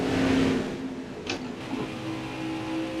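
NASCAR stock car engine in the racing video game NASCAR Heat 4, a steady moderate engine drone with a brief whine around a downshift, continuing without talking.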